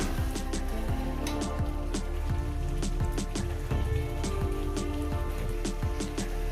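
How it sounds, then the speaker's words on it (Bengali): Taro simmering in fried masala for a rohu fish curry, bubbling and popping steadily in the pan with dense close sputtering and crackles throughout. "একদম প্রচণ্ড জল দিয়ে দিলাম"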